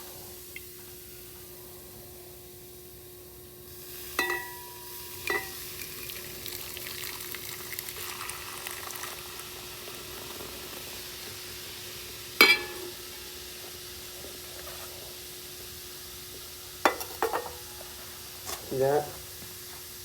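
Nitric acid bubbling and fizzing as it dissolves silver during a first boil in gold refining, a faint steady simmer with a few sharp clinks and taps, while someone speaks briefly.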